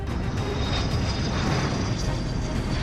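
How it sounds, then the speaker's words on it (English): Steady, loud roar of a jet aircraft engine as the plane lands, a continuous broadband rush with no breaks and no voices. "The jet lands far from the village"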